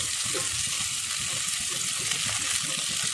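Egg frying in a pan while making egg noodles, a dense continuous sizzle with busy crackle and some stirring scrapes, loud and close, no talk.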